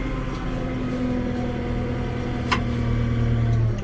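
Kubota L6060 tractor in four-wheel drive reversing, its diesel engine giving a steady, close low hum with a constant drone throughout and one brief click near the middle.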